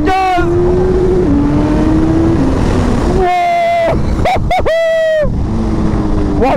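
A Suzuki Hayabusa 190 hp sport motorcycle accelerates hard on an open road, its engine note climbing through several rising revs with quick gear changes, loud and close under wind noise.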